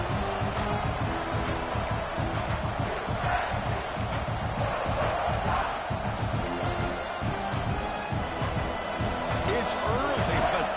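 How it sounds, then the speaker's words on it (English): A loud, fired-up football stadium crowd at Texas A&M vs South Carolina roars continuously with dense cheering and shouting, a steady wall of noise from start to finish. "this crowd is fired up. Listen to this noise here."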